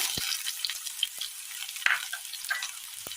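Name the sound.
mustard seeds and chopped shallots sizzling in hot oil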